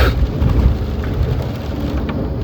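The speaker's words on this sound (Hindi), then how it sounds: "बारिश तेज़ होती जा रही है" Heavy rain pours steadily and loudly around a car, a dense broadband wash that stays close and unbroken, with occasional sharper drops and faint rumbles, and no one talking.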